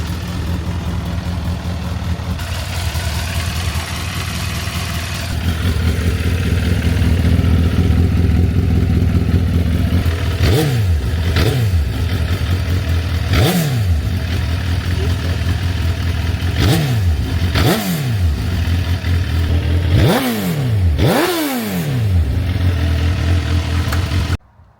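A Suzuki GSX-R 1000 motorcycle that sat unused for three years idles loudly up close, then gets a series of sharp throttle blips that rise and fall in quick succession.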